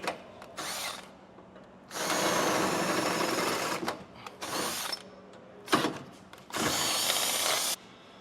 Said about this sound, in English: We got the 7/16 drill bit loaded up for our final pass.